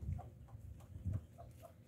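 Chickens clucking at feeding time on a small Brazilian farm, several birds giving soft, irregular low clucks and murmurs close by, a busy, faint flock sound without talk.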